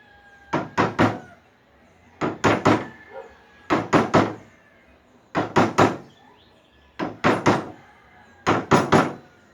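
Sharp wooden knocks come in groups of three or four, roughly every one and a half seconds, as a 1/2-inch bevel chisel is struck to dig out waste from a cross lap joint, with the workpiece clamped to a work desk.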